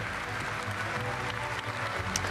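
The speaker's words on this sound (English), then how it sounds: "Sylvain Chavanel getting a great round of applause here" A large crowd applauds steadily at the Tour de France 2011 team presentation as the Quick Step team appears, a dense sustained clapping that fills the space without pause.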